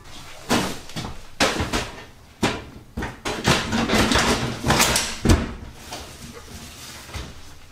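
A kitchen cabinet door and waste bin system are refitted under a sink, with a series of close, sharp knocks, clunks and sliding bumps spaced irregularly, without talk.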